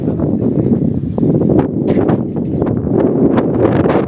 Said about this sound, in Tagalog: Oh, lakas ng hangin oh. Lakas ng hangin.